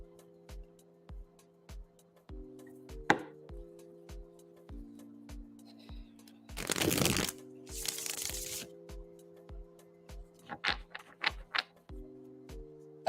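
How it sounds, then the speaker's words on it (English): Tarot cards being shuffled during a live tarot reading, with a couple of brief riffling bursts and a few quick flicks over a soft steady ticking and low sustained music tones, no talk. "I'm shuffling for you now, Mia."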